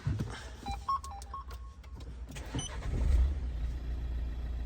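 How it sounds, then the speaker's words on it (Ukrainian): A few short electronic beeps, then a Renault Scenic 3 1.5 dCi diesel engine cranks and catches, settling into a low steady idle inside the car. "Зараз запущу двигун, вимкну клімат."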